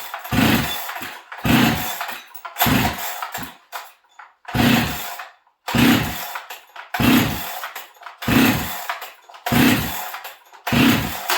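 A Dolmar chainsaw with a muffler mod, high compression and an air leak is pulled over again and again, giving about nine loud, close, evenly spaced engine bursts separated by short gaps.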